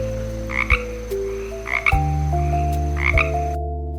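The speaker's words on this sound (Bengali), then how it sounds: "উমতে ব্যাং, ব্যাং ডাকে" Three loud, deep frog croaks ring out at roughly even intervals over a gentle melodic backing tune, each croak short and throaty.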